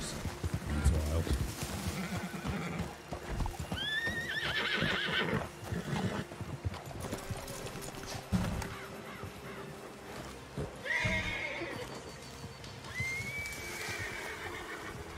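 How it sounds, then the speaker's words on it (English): A wild horse whinnies twice at moderate distance over steady hoof clip-clops, with a crowlike caw and murmured voices in the background. "Is that a wild horse or someone else's horse?"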